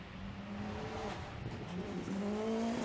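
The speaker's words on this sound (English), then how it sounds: "Lithuanian made, built and prepared car for the rally." Lithuanian-built and prepared rally car running a gravel stage, its engine droning steadily with rising revs and tonal whine, close and loud throughout.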